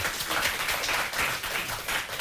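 A studio audience on a French TV quiz show applauds steadily, a dense wash of clapping that holds at an even level throughout.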